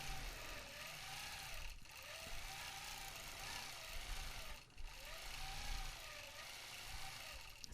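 A sewing machine doing freehand quilting on a practice panel gives a steady close mechanical hum with repeated rising and falling whirs as the stitching speeds up and slows.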